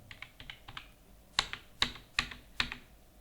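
Cheque number being keyed in on a computer keyboard during accounting entry: a few light taps, then a short run of sharper, evenly spaced keystrokes, close and clear with no talking.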